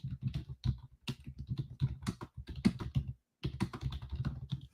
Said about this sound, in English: I'm typing in our group as we go